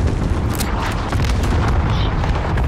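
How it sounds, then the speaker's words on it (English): Cluster strike explosions in a video game rumble as a dense, continuous barrage of booms and bursts, loud and close throughout. "Allied cluster strike incoming."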